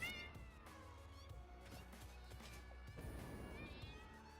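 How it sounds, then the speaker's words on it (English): Hostile cat creatures in the video game Satisfactory let out loud, wailing meows and caterwauls over a cluttered game background, with several overlapping yowls across a few seconds. "Oh, evil cats, run away."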